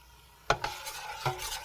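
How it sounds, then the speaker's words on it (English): A spoon stirs pumpkin butter in a pot: two or three short scraping knocks against the pot, close and fairly quiet, with a faint background hiss. "reach over here and stir up our pumpkin butter"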